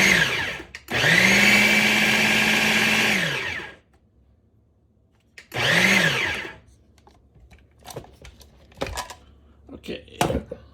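A blender whirs through tofu, bouillon cubes and soy sauce in two loud motor bursts, one lasting about three seconds and a shorter pulse after a pause, followed by clattering and knocks of handling.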